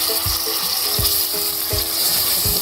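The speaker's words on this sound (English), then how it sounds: "I'm going to add in the 2 tins of chopped tomatoes" Two tins of chopped tomatoes hit a pan of cooked onions for a homemade Italian tomato sauce, giving a steady close sizzle and fry with soft stirring knocks and pulses recurring through it, no talking.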